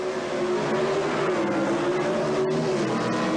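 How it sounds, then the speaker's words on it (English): High-revving engines of modified eliminator drag racing cars scream at full throttle, a loud, steady, droning whine that holds close and constant for a few seconds. "High-winding engines in this modified eliminator category."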